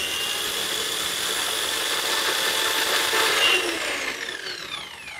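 Ronix RH-4350 165 mm plunge saw running on its own, a loud steady high-pitched motor whine close by that holds, then winds down slightly toward the end, with no talking.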